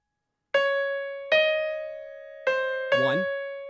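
Piano plays a piece from Hyrule Warriors: Age of Calamity, four sustained notes struck one after another and left to ring and decay, the last with a brief lower flourish beneath it.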